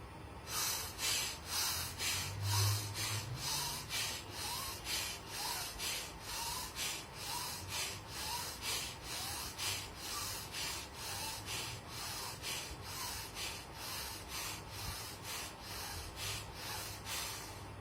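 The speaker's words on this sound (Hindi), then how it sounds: "राइट से सांस भरेंगे आवाज के साथ, और राइट से ही सांस छोड़ेंगे आवाज के साथ" Rapid, forceful breaths through the right nostril in bhastrika pranayama, a steady rhythmic series of sharp puffs in and out, close and loud, with no talking.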